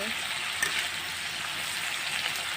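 A constant, even hiss of frying in oil, fairly quiet and uniform throughout, like a low steady crackle.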